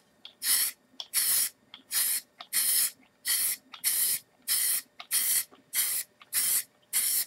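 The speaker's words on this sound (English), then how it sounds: "But I'm going to spray, and then spray, and spray, and spray." Paint sprayer hisses in about a dozen short, evenly spaced bursts while weathering a miniature model in a workshop, each spray sharp and close with brief silences between.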